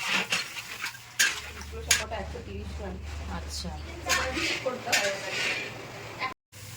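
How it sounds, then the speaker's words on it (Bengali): A big spatula scrapes and stirs curry gravy with chicken in a large metal pot at a food stall, clinking against the sides in a busy rhythm under loud nearby talk. "জ্যোতিদি দেখো একদম খুন্তি হাতে দাঁড়িয়ে পড়েছে একটা বিশাল আকার খুন্তি নিয়ে একটা গামলা রয়েছে"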